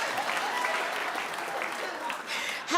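Stand-up comedy crowd applauding, a dense, even clatter of many hands lasting nearly three seconds, with a faint voice mixed in near the end.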